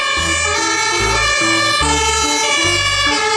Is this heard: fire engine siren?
yes